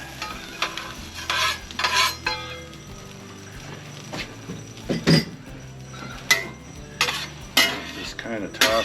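Steak bites tossed with a spatula in bourbon garlic butter on a flat griddle, a steady sizzle under repeated scraping, clinking stirs and metal taps, close and fairly loud with no talking.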